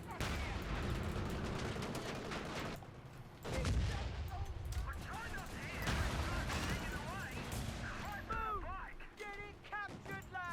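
Mortar fire in Company of Heroes 3, a battlefield din of repeated thumping impacts and rattling gunfire with heavy low booms near the middle, while a voice talks over the combat.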